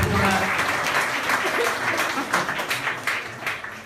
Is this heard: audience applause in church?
yes